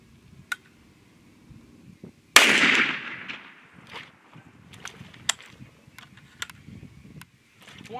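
A Remington rifle fires a single sharp, loud report during a test fire outdoors, followed by a decaying echo and faint rustling and handling noises. No other shots follow.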